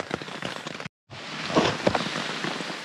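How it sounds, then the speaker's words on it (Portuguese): Heavy rain beats on a camping tent during a trek along a railway line, a close, dense patter with scattered louder drops, briefly cut off before resuming just as strongly. "E dá-lhe chuva!"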